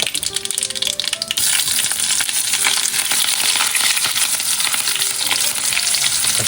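Green chilies dropped into hot oil already popping with brown mustard seeds, giving a loud, dense, continuous close sizzle that swells sharply after a brief clatter at the start.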